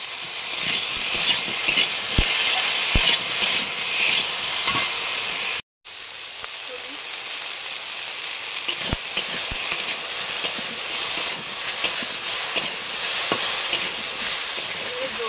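Prawns and taro sautéing with salt in a pan give a steady, loud sizzle with scraping stirs and occasional sharp clicks, broken by a brief silent gap midway, with no talk.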